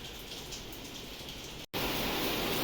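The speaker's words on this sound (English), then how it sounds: "It's raining super hard." Heavy rain pours down steadily as a dense, loud hiss, briefly cut off before resuming even stronger.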